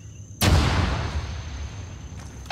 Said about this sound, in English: That was my explosion.